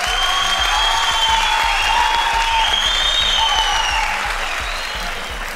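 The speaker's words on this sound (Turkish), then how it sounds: "Hayır diyenler alkışlasın." Loud, steady applause from a talent show studio audience, thick continuous clapping with cheers and whistles on top, easing slightly toward the end.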